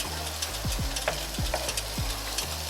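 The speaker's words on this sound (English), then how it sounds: "You should fry your ingredients." Green peppers frying in preheated oil hiss with a steady, dense sizzle, broken by a few soft stirring scrapes, close and continuous with no voices.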